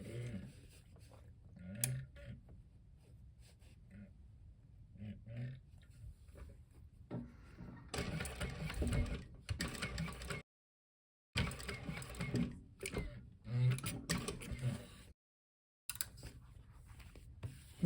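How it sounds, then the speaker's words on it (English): A sewing machine stitches top and bottom seams on a small popper backpack, running in bursts with brief pauses and short silent gaps, close and moderately loud, with no talking. "Now we sew down across the top, across the top and the bottom with the seam allowance listed in the pattern."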